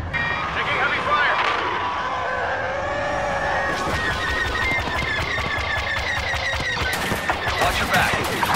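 Laser blasts and rapid gunfire rattle through a starfighter dogfight in the video game Star Wars Battlefront, with dense bursts over roaring engines, whooshing flybys and radio voices.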